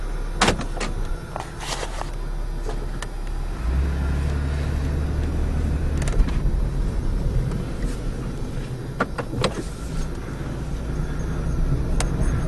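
A 1994 Buick Regal drives along with a steady low engine and road rumble inside the cabin, joined by a few sharp clicks and knocks from the car's interior.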